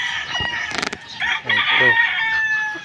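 Laying hens clucking on a farm in the Philippines, several close, loud clucks and a short crow-like call in quick succession, with a bit of background activity.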